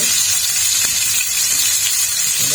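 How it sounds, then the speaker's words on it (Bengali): Black cumin seeds sizzle in a small amount of hot oil, a loud, steady, close hiss that continues without a break. "এই দিয়ে দিলাম আমি একটু কালো জিরে"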